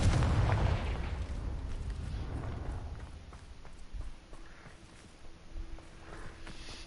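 The Confringo blasting spell explodes in the Hogwarts Legacy video game, a loud booming burst at the start that rumbles and fades into quieter game ambience with soft scattered clatter.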